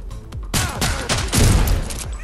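Gunfire from the VR shooter Stride Fates on PSVR 2 comes as several loud, sharp shots in quick succession, close and punchy, with booming low tails.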